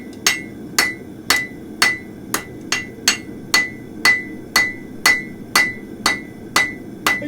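Hammer blows ring on metal being drawn forward over the horn of an anvil, around fourteen sharp metallic strikes in an even, quick rhythm, close and loud over a low background hum.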